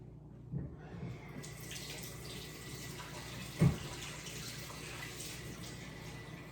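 Tap water runs steadily into a kitchen sink while items are rinsed under the stream, a soft continuous wash with one brief louder splash partway through and no talking.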